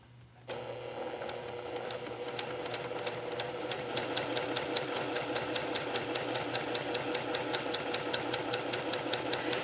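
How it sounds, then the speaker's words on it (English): A sewing machine stitching quilt blocks starts up and runs fast and steady, its needle clattering in a rapid, even rhythm, close and fairly quiet. "And then I'll take that over to the sewing machine"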